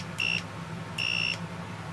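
Electric circuit tester alarm going off near a charging SKIL powered screwdriver, two short shrill high-pitched beeps about a second apart, clear against a quiet background hum.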